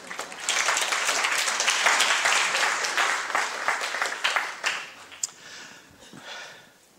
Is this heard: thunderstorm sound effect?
no